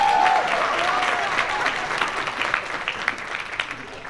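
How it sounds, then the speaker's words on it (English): An audience at a gala event bursts into loud, dense applause that slowly tapers off, with a brief whistle near the start. "Everyone, please give Padma a big round of applause."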